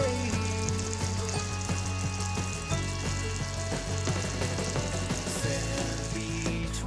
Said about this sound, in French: On prend une casserole, on verse l'eau en premier. Et par-dessus, on a versé le sucre semoule et on démarre la cuisson.